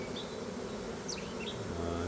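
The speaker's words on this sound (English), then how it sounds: "it looks like I did catch this colony, so it's another colony to add to the apiary" Honey bees from a caught swarm colony hum at an apiary, a faint, close buzzing with individual bees whining past, rising and falling briefly over a low steady drone.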